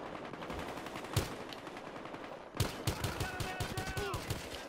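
Gunfire in the video game Battlefield Hardline: a loud single shot, a short lull, then a rapid run of close automatic shots, with some muffled game noise underneath.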